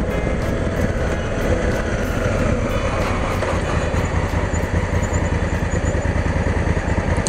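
Motorcycle engine, a 2017 model, idling steadily at a roadside police stop, a close, continuous low rumble that holds level throughout with no speech over it.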